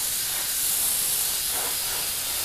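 Thinned model paint sprays from an airbrush in a steady close hiss, continuous and alone for a couple of seconds.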